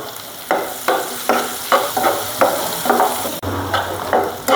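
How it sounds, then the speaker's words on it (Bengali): Chopped onion and garlic fry in hot oil for a fish curry, a steady sizzle broken by about nine rhythmic stirring scrapes at close range. "পেঁয়াজ রসুনটা হালকা ভাজা হয়ে গেছে"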